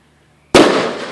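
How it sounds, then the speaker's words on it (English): A video-game grenade launcher fires a firework, heard as one sudden loud burst after near silence, then a crackling, hissing tail that slowly fades. "Firework time. Yeah, firework."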